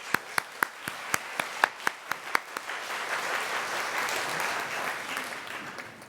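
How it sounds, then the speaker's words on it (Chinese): Church congregation at a Taiwanese-language worship service applauding: a few sharp rhythmic claps at first, then spreading into broad, sustained applause from the room. "咱来拍手。"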